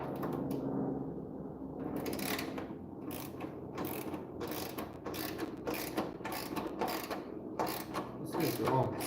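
A socket wrench ratchets on a 9/16 bolt while working on a lowboy trailer, giving repeated close clicking strokes in bursts with short gaps and a low background rumble.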